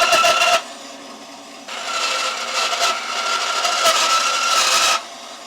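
A saw cutting through a plastic piece guided by a broad metal straightedge clamped on top, heard as two bursts of steady raspy scraping strokes, close and fairly loud, with a short pause between them.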